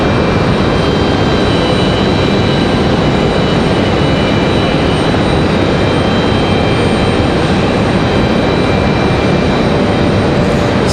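A United airliner going around at Raleigh-Durham airport, its engines a loud, continuous broadband roar that holds steady throughout without fading, no talk over it.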